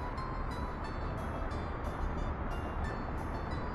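A train arrives at a station in the Workers & Resources: Soviet Republic city-building game, with a steady rumbling roll of rail cars and a faint, repeated rhythmic clatter on the track, heard alone.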